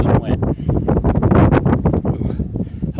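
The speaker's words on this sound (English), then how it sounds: "And it's windy, about 40 degrees," Strong wind buffeting a microphone on a snowy mountain at about 6,000 feet, loud and gusting in continuous rough bursts across the whole stretch with no other clear sound.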